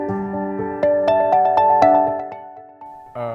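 A phone ringtone plays a short, rising melody of bright electronic tones, loud and close, ending abruptly before another tone begins.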